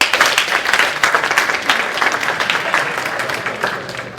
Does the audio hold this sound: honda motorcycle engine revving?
no